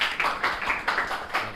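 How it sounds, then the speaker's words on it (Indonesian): A classroom group claps together in brief applause, a few quick bursts of hand claps that stay fairly quiet and fade within a couple of seconds. "tepuk tangan dulu."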